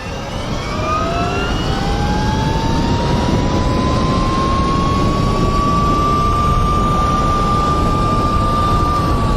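A motorcycle fitted with supermoto tires is held at top speed, around 55 mph. A loud, constant engine whine rises slowly in pitch over a heavy rush of wind noise, with no talk.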